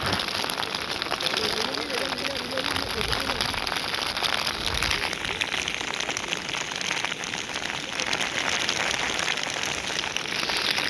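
Steady rain falling during a mountain trek up Netravati Peak, a dense continuous hiss filling the scene, with people talking over it at moments.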